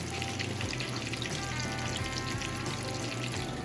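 Shrimp fry in hot oil, giving a dense, even crackle and sizzle that holds steady through the short stretch with no speech.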